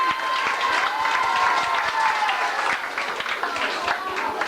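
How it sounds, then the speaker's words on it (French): Audience applause for young children stepping up to perform at a 1990 Saint Nicolas show, steady dense clapping from a crowd filling the whole stretch, with murmured voices underneath. "Vous pouvez les applaudir."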